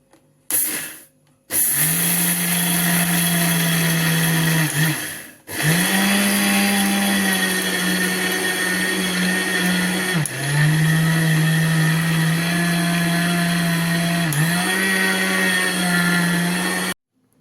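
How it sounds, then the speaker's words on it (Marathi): A mixer grinder grinding spices whirs loudly in several long bursts, its motor humming steadily, separated by short pauses where it stops and restarts. "हे सगळं आपल्याला मिक्सरमधून काढून घ्यायचं आहे बारीक करून घ्यायचं आहे"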